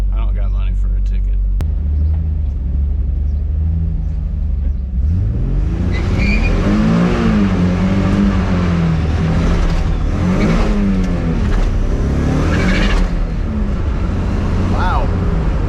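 Nissan 300ZX with a turbocharged VG engine revs up to 8500 rpm, starting as a deep idle rumble, then climbing in loud, repeated rising sweeps close by, the last pulls reaching high and sharp.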